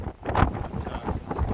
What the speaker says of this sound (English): Behind me, you probably can't hear me because of wind.